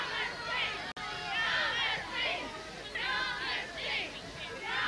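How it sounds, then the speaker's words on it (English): Yarmouth cheerleaders at a 1979 It's a Knockout contest cheer continuously as a steady crowd roar of voices, with rising and falling shouts and chatter, close and loud throughout. "All I can hear, the Yarmouth cheerleaders."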